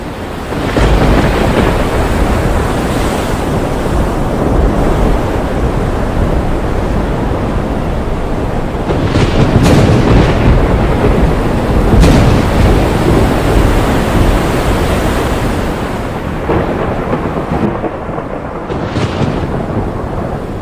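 Loud, continuous roar of wind and crashing ocean surf, with heavier surges of breaking waves and gusts buffeting the microphone.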